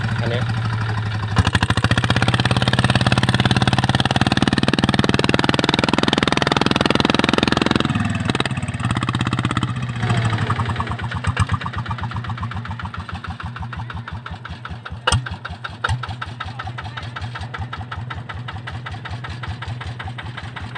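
A ZT 155 motorcycle's exhaust roars close and loud, surging in a heavy rev before settling into a rapid, pulsing idle with occasional pops, with talking mixed in.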